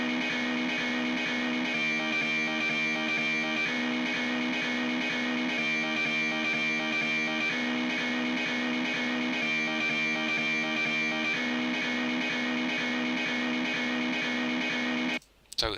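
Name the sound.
reamped electric guitar riff through cab simulator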